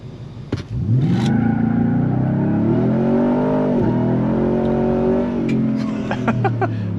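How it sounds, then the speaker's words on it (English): A deep V8 engine in a Ford F-150 Raptor R truck revs hard and roars loudly up close, rising and falling in pitch, with a sharp cough near the start and clicks toward the end. "Oh, the V8 just sounds so what good."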